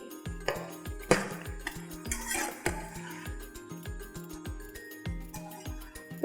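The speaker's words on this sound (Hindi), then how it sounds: "तो ये जी भुन रहा है हमारी कलेजी।" Goat liver (kaleji) frying in a pan as a spoon or spatula stirs it, giving repeated metallic scrapes and clinks against the pan at an uneven rhythm, close and moderately quiet, with a faint sizzle underneath.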